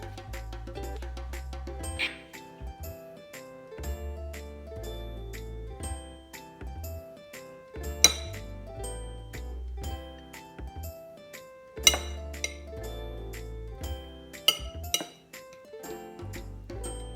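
Food set down on a serving plate beside grilled items during breakfast prep, heard as a series of close, light ceramic clinks and taps with quiet pauses between them.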